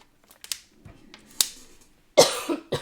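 A short burst of dry, throaty coughs from a tickle in a dry throat, with a sharp cough near the start, another in the middle and a cluster at the end, close to the listener.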